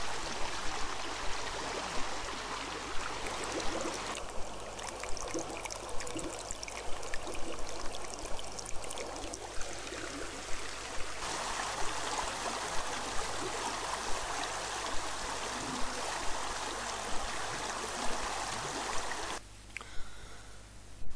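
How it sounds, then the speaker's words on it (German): A babbling brook runs past a mill in the village of Pottenstein, a steady rushing wash of water that continues throughout, moderately loud and close, with faint irregular clicks and no voices. "Es klappert die Mühle am rauschenden Bach."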